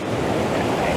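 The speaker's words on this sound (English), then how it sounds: "where these waves are coming in" Sea waves surge against the rocks of the Causeway Coast in Ireland, a loud, close, continuous rushing wash with wind buffeting the microphone.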